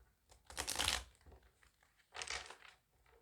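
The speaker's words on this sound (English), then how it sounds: "Give it a little shuffle." A deck of tarot cards is shuffled in two quiet bursts of papery riffling and crinkling, separated by a short pause, heard close up with no voices.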